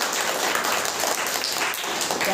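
Children in a classroom clap together in a dense, continuous burst of applause, close and fairly loud, lasting the full couple of seconds without talking.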